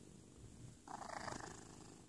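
A kitten purrs softly and close up, a low continuous rumble that swells in intensity partway through, faint overall with no voices over it.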